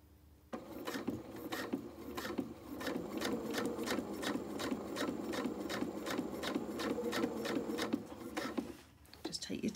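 A sewing machine runs steadily, stitching suit trousers at a 2.2 stitch length, its needle clattering in a fast even rhythm for several seconds, close and fairly quiet, with brief pauses at start and end.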